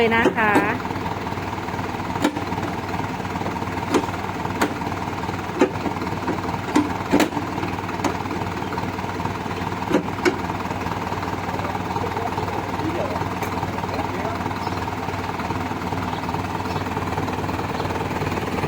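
A dump truck's diesel engine running at idle, a steady loud mechanical rumble with sharp periodic clicks and knocks, while someone talks over it.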